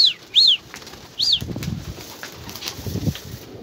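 Released pigeons burst into flight with loud wing flaps and whistling wingbeats in snowy outdoor surroundings, a few quick flurries close by followed by fainter flapping as the birds move off.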